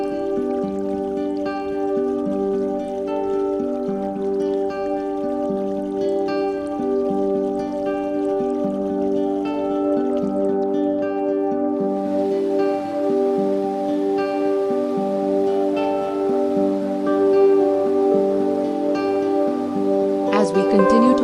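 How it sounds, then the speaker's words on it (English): Gentle creek water burbles steadily in a forest, a continuous soft trickle and patter heard alongside a sustained tonal drone throughout, with no speech. "The gentle burbling sound of a creek."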